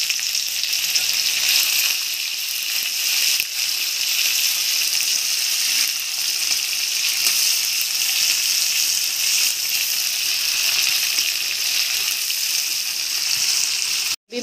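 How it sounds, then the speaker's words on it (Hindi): Half a chopped onion fries in a pan with mustard seeds for a banana curry, making a continuous close sizzle with crackly spattering and a faint stir or clink now and then, with no talking over it. "अब हम ये जो आधा प्याज काट के हम फ्राई कर लेते हैं।"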